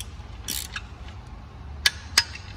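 A torque wrench set to 10 newton meters, tightening bolts on a K20 EP3 Type R engine, gives two sharp, close clicks near the end after some faint mechanical rattling, with no talk.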